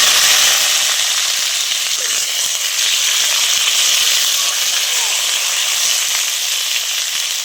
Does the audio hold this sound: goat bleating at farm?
no